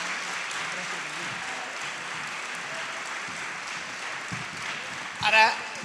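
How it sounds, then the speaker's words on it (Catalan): An audience applauds after the opening proclamation speech of the Festa Major in Riudarenes, producing a continuous wash of clapping from a crowd outdoors, steady and moderately loud, with a brief louder sound near the end. "un fort aplaudiment, sisplau, per aquest pregó que ens ha fet"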